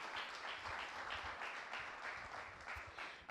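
An audience applauds at a competition event, steady moderately faint clapping that continues throughout with no break.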